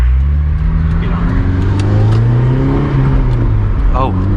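The engine of a 2004 Honda S2000 AP2 roars loudly from inside the car, its pitch climbing and falling as it revs during a test drive, while people talk over it.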